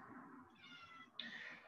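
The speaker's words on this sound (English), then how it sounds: "I don't know if you can hear my cat" A pet cat meows indoors, one drawn-out, rising meow that breaks into a brighter second note, fairly faint and close to the microphone with no speech.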